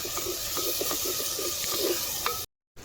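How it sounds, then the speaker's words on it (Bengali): Chopped tomatoes and garlic paste fry in a pan for handi chicken, giving a steady close sizzle and hiss with soft periodic stirring taps, no voices, then a sudden brief dropout. "এবার এটা দিয়ে বেশ ভালো করে এবার ভেজে নেব।"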